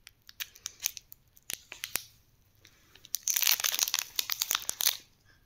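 Close scissors snip sharply several times at ice cream packaging, followed by a burst of crinkling, rustling packaging as the cutting continues, with no talking.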